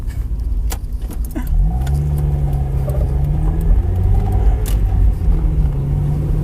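A Mazda Miata engine drops and rises in pitch through a clumsy, fumbled gear change while driving, with a few sharp clicks and rattles inside the cabin.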